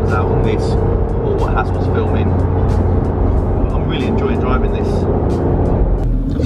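A Porsche 991 GT3 RS drives through a tunnel, its engine a loud, continuous drone echoing off the walls, with someone talking over it throughout.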